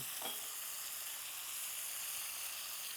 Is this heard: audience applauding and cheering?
no